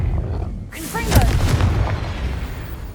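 A Confringo blasting spell erupts in Hogwarts Legacy, a sudden loud burst that kicks in sharply and then rumbles on as a dense, sustained roar with crackling debris, with a voice speaking over it.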